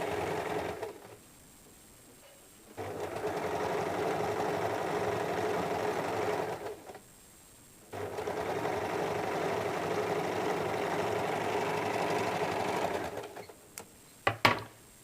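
A sewing machine stitches a blouse seam in three long continuous runs, with short pauses between them and a few quick clicks at the end.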